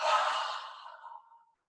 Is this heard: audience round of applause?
no